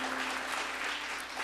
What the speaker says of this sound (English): Yes, you can applaud the altar.